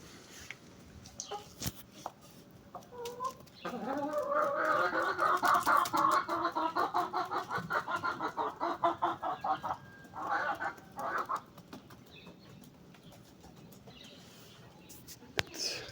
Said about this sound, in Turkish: Buyurun birlikte tavuklarımızı bırakalım izleyelim